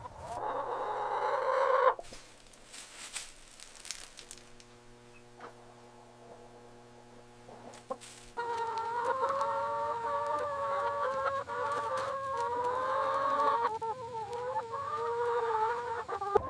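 Hens cluck softly in a chicken house at night, with a steady electrical hum underneath and mechanical sounds, the clucking growing more continuous in the second half.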